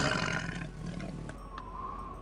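A cave lion in the video game Age of Empires 2 lets out a low, rumbling roar that fades into a softer, sustained tone, moderately loud with no speech over it.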